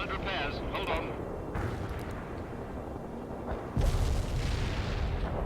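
Fuel bombs exploding in the war game World in Conflict: Soviet Assault give deep, rolling booms with heavy rumbling, building to a louder blast partway through and then sustained thunderous roar.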